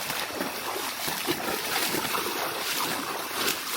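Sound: waterfall

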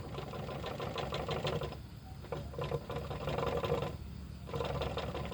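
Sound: motorcycle engine running slowly

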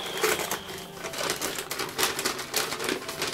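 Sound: tearing open a sewn-up fabric advent calendar pouch

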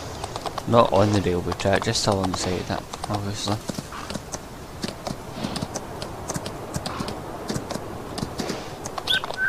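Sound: horse hooves clip-clopping in Farming Simulator 19 video game

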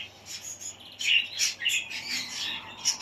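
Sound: birds chirping

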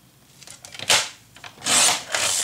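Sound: scoring paper on a scoreboard for a crafts project

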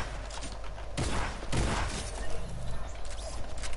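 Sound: gunfire in a video game

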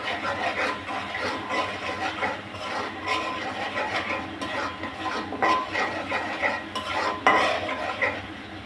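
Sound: stirring and sautéing spices in a pan

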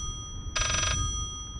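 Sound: telephone ringing in the video game Layers of Fear

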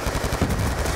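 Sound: gunfire in video game Call of Duty Black Ops 2

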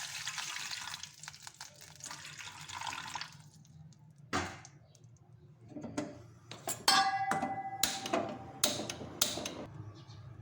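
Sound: water poured into a pan for dhokla tempering

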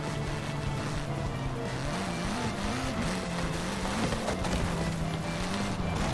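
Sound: car driving in the video game Forza Horizon 5

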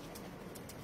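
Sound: pigeons cooing

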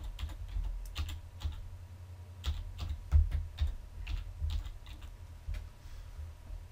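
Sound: typing Outlook.com on a computer keyboard

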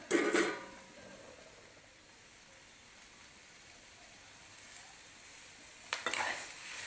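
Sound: onion and tomato frying in oil

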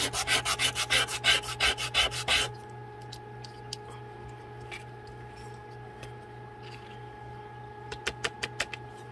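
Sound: sanding a 1:12 scale toaster model kit

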